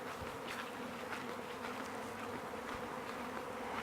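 A honeybee swarm fills a front yard with a dense, steady buzzing hum that holds constant throughout, close and loud, with no voices.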